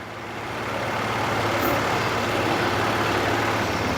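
A Yanmar six-row rice transplanter engine revs with the accelerator pressed, rising over the first second to a loud, steady, rough drone that holds at full throttle.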